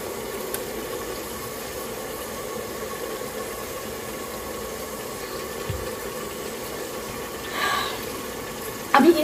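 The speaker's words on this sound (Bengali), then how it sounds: "পেঁয়াজটাকে খুব ভালো করে আমি একটু হালকা বাদামি বাদামি কালার করে দিব।" Onions fry in a pan until light brown, giving a steady, even sizzle with a low hum underneath, broken by a few faint clinks and a brief stir near the end. No one speaks.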